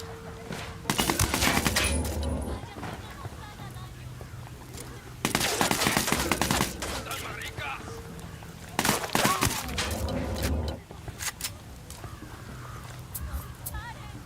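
Gunfire in the video game Ghost Recon Wildlands comes in three loud bursts of rapid automatic shots separated by quieter stretches, with voices talking over the action.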